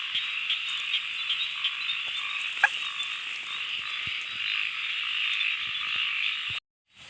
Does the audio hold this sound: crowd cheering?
no